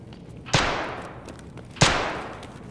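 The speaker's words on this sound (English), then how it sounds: "Okay, I'm about to throw my flashbang, hold on. Popped it." Two sharp flashbang blasts in Escape from Tarkov, each a loud bang trailing off in a fading hiss, about a second apart, with no talk.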